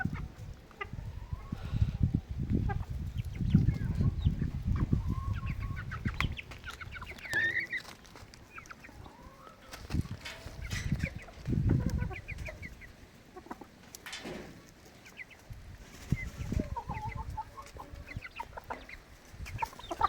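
Several mature laying hens cluck and murmur nearby, steady low calls continuing throughout with occasional sharper squawks.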